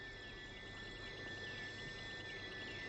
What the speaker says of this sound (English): In the dusk, the jungle crickets, thousands of them, are almost deafening.